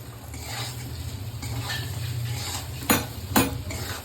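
A spoon scrapes spice masala in a hot pan for a hilsa fish curry, a low steady sizzle with soft stirring scrapes and two sharp metallic clinks near the end, no voices.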